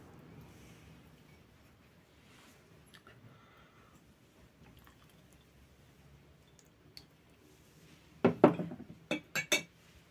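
Dishes and glassware clink in a short cluster of sharp, close knocks near the end while vegetable oil is measured by the glass for a batch of poğaça dough, after a quiet stretch with faint kitchen handling.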